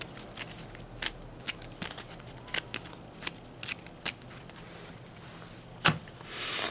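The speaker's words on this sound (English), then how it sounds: "I'm going to shuffle my attack discard pile" Repeated crisp riffling and snapping of a card deck being shuffled, a series of sharp bursts at irregular intervals over quiet background.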